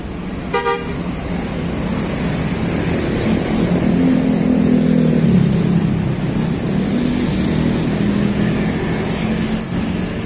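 A CTU city bus is driven out to the roadside in Bandung, a brief horn toot at the start followed by a steady engine rumble rising and settling amid traffic noise.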